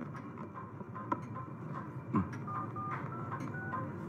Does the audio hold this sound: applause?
no